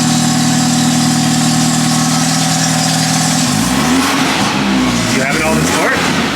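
BMW F30 with a new downpipe exhaust, set to Sport Plus, idles with a deep steady drone, then revs loudly with rising and falling engine roar, close and very loud.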